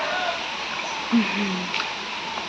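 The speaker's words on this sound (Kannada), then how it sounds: "ಹಾಗೆ ಇಲ್ಲಿ ಮಳೆ ಜೋರುಂಟು." Heavy rain pours down outside a home in Mangalore, making a steady, dense hiss throughout with a faint voice briefly underneath.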